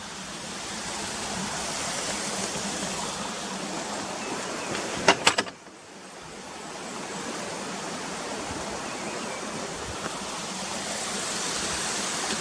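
River water flows steadily near Ashgill waterfall, a broad continuous rush that briefly dips after a short knocking sound, then swells back to an even roar.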